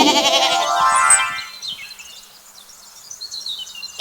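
A goat on a hillside in a children's cartoon gives one clear, wavering, close bleat lasting about a second, followed by faint chirps and quiet.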